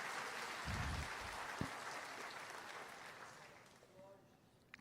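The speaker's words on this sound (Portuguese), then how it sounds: "Se é para Jesus, aplaude forte." A congregation claps during a church sermon, a soft, diffuse applause bed under the preacher's voice that gradually fades, with a few sharper knocks standing out.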